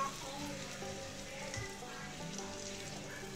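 Poori puffs in hot oil, a steady, dense sizzle and crackle of frying that holds evenly throughout.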